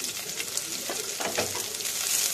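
Chopped onions, already reddened, fry in a pan for chicken kosa, giving a continuous soft sizzle and hiss with faint stirring scrapes.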